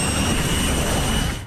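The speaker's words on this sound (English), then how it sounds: "a crew member walks past a jet engine but forgets to duck" A jet engine roars on an aircraft carrier deck, a loud, close, continuous whooshing blast with a high whine running through it, heard alone.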